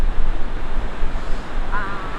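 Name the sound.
waterfall of melting snow in Nikko, Japan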